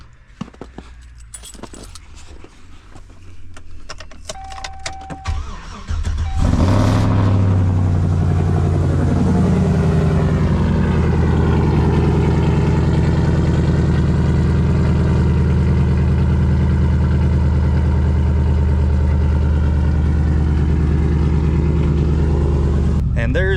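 Keys jangle before a straight-piped Chevrolet Silverado pickup starts with a loud rumble and settles into a steady, deep idle, with talk heard at times.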